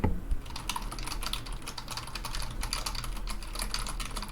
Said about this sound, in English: let's follow that up with some keyboard tapping